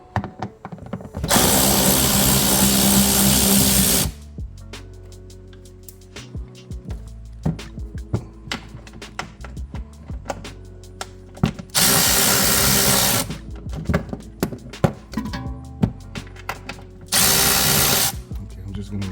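Power drill working on fasteners in a BMW 335i wheel well, three loud sustained whirring bursts separated by quieter clicks and handling noises, close up.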